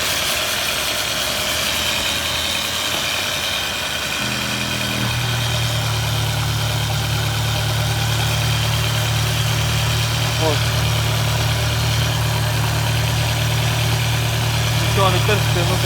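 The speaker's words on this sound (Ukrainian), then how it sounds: "А так, в принципі, мотор працює відмінно." A 1997 Volkswagen Passat B5 engine idles steadily with a low, constant hum and a faint rumble, running smoothly throughout with no revving.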